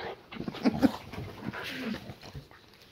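A boxer dog whimpers and whines in short, uneven bursts at close range, with a few louder yelps near the middle and quieter soft whining after.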